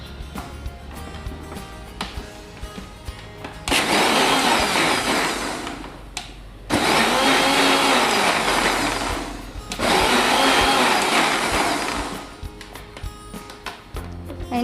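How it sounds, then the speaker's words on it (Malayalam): Kitchen mixer grinder blending orange juice with condensed milk, three loud whirring bursts of about three seconds each separated by short pauses, with faint handling clicks before and after. "ഇനി നമുക്ക് ഒന്ന് മിക്സിയിൽ ഒന്നുകൂടി അടിച്ചു കൊടുക്കാം."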